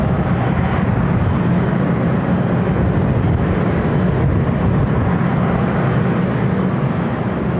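A Delta 767 airliner on runway 24 left at LAX gives a loud, steady, broadband jet-engine roar that holds constant throughout, close and alone without voices.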